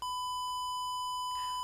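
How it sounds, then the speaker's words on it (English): A steady, high-pitched electronic beep from a small buzzer driven by an Arduino tone function. The pure tone holds constant throughout, loud and close, with faint clicks in the background. "A high-pitched note will be our anthem of victory"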